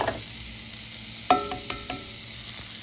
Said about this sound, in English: I'm going to put some butter in the skillet and make this egg